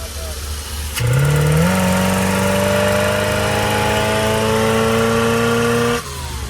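A camper van engine, its original injectors refitted on the throttle body, cranks and catches, then runs at a loud, steady idle with a rising pitch before cutting off abruptly.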